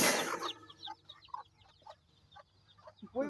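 Bantam chickens clucking in a backyard coop, soft scattered clucks and chirps at moderate distance after a brief loud burst at the start, no talking.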